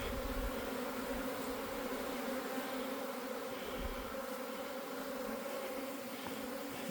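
A honeybee swarm entering a hive box makes a dense, continuous buzzing drone that stays steady and close throughout.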